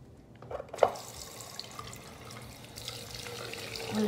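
Water runs from a tap as a little is added during home hair coloring with conditioner, a soft steady trickle with a brief splash near the start, faint and close.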